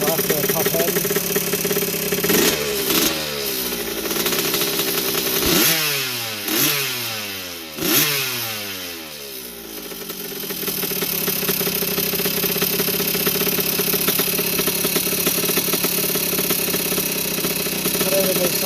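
A 1981 Yamaha YZ80H two-stroke motorcycle engine, a barn find rebuilt to running, idles with a rattly, uneven tone, blipped a few times in rising and falling sweeps before settling back to a steady close idle.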